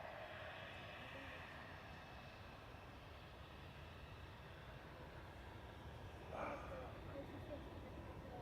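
An aircraft with a faulty transponder at Manchester Airport makes a steady, distant engine roar that holds level the whole time, faint and broad, with a brief louder swell toward the end.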